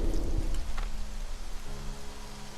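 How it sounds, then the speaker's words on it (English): Rain falling in the video game The Axis Unseen, a dense steady patter with low rumbling beneath and a few louder drops near the start, no voices. "Oh, it's raining."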